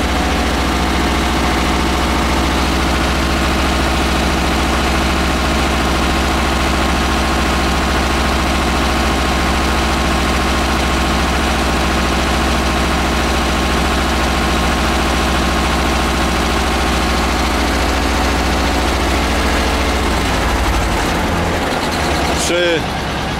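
A tractor engine runs loud and steady, droning at high revs close by for a long stretch, then drops off near the end.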